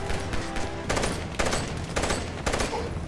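Dense gunfire in the video game Army of Two: The Devil's Cartel, a steady rattle of shots with several sharper bursts standing out, loud and continuous across the whole stretch.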